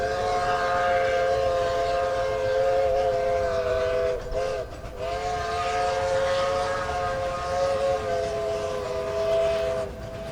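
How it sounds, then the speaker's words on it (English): Iowa Interstate Railroad steam locomotive sounding a loud, sustained chime-like whistle that holds steady for about ten seconds, with a brief dip midway, over a continuous rumble of the train. "the Iowa Interstate Railroad has brought the sight and sounds of steam back to the Midwest"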